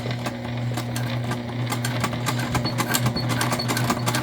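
A sewing machine runs steadily as it back stitches around a tote bag, a continuous close motor hum with rapid needle ticking and no talk.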